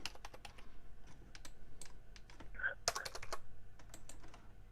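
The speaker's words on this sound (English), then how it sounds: "Now my keyboard's going insane again." Rapid typing on a computer keyboard, a close, steady patter of sharp individual key clicks with a few louder strikes near the middle, continuing throughout.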